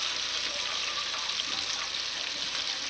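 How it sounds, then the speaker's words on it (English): Fish and hush puppies fry in hot oil with a soft, steady crackling sizzle, fairly faint and continuous, with no talking over it. "that's frying"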